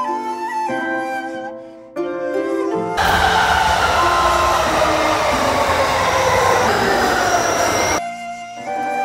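A subway train on the Metro roars loudly nearby, a rising rumble of wheels and squealing metal that swells, holds for several seconds, then drops off abruptly.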